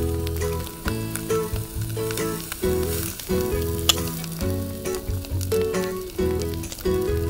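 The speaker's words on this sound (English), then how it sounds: "Let's grill eel." Skewered eel sizzles over a fire on a miniature outdoor grill, a steady close crackling hiss with small pops, loud and continuous with no talk.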